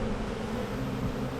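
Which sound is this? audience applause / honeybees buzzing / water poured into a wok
honeybees buzzing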